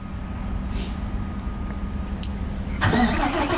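A car engine starts up and begins to pull the vehicle forward while fitting TRAK snow chains onto its tyre, a low rumble building under a steady drone, close by, with no talking.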